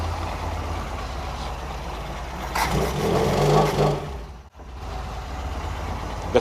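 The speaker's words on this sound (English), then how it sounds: "The clutch rattle's getting really bad now, so it sounds a mess." A vehicle engine idling with a bad clutch rattle, a steady rough drone that briefly swells louder, then cuts out for a moment before running on.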